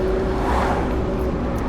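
Honda Beat kei car driving on its first test drive with a quick-release steering hub fitted, a low steady engine and road hum at moderate level, no talk.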